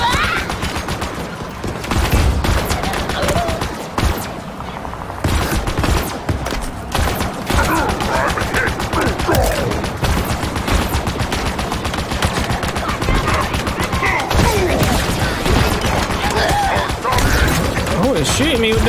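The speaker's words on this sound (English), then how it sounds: "shooting me with them lasers" Enemy energy weapons in Halo Infinite fire in rapid, continuous volleys of sharp zapping shots, loud and close, with heavy combat noise throughout and someone talking over it.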